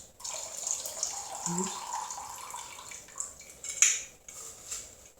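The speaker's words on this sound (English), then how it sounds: "I don't know if you can hear that, but the leaves are very crispy" Soft crinkling and crackling of wet, alcohol-soaked mint leaves being squeezed close up, with faint clinks and a few brief crisp crunches.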